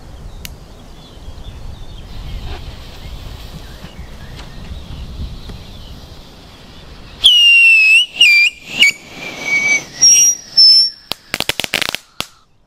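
A Funke Octuplus battery of whistling fireworks with crackling, eight-fold howling effect: a rumbling launch gives way to a series of loud, rising and falling whistles, followed by a rapid burst of sharp crackling pops at the end.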